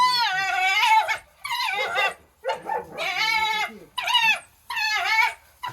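Young red-wolf-type canid whining and yelping excitedly in a series of high, wavering cries, close and fairly loud, with short pauses between bursts.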